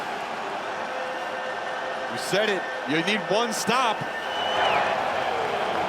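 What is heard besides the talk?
football stadium crowd noise on 3rd down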